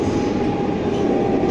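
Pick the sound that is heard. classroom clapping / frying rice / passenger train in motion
passenger train in motion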